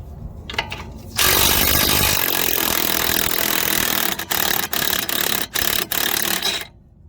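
A bolt being removed during a coilover install on a Buick, a loud continuous rattling of a power tool with brief pauses and bursts.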